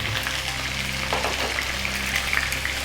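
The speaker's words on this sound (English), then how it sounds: "We're going to add the 2 cups of onion" Chopped onions, two cups with salt, going into a hot pan over browned chicken for an Indian chicken curry on medium heat, giving a steady, close sizzle and frying hiss throughout with a brief clatter partway.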